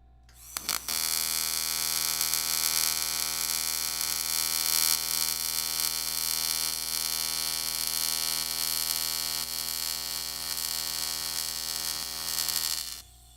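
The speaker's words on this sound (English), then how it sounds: "Let's keep going on that weld." AC TIG welding on an aluminum turbo pipe, a steady bright buzzing arc with a mains-like hum that starts sharply and holds for about twelve seconds before cutting off, no talk over it.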